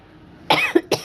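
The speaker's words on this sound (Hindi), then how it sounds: "मुझे खांसी भी हो गया ना, तो बीच बीच में खांसी भी आ रही है" A woman coughs three times in quick succession at home while sitting down to tea and biscuits; sharp, close bursts after a brief quiet start, with no talking.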